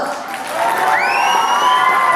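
A crowd at a Bass Beats Night music event cheers and shouts loudly and steadily, with a whistle-like whoop rising partway through over the dense, close roar.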